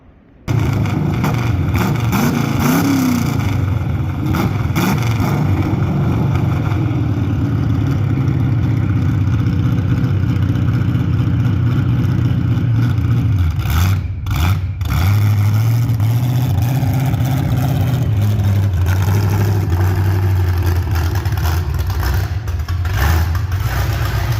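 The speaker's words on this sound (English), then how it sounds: "did the first test drive. Carburetor is not happy at all." A welded demolition derby car with a poorly running carburetor revs loudly during a test drive, its engine roaring steadily and surging up and down for the whole stretch with no voices.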